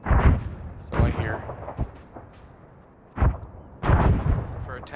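Explosions in a video game battle near Kavala, several loud booming bursts spaced irregularly over a few seconds, with quieter rumble between them.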